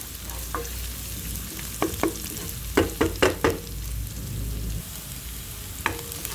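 Onion and garlic sauté in a pan under a constant soft sizzle, while a utensil scrapes and taps the pan several times, including a quick cluster of four strokes near the middle.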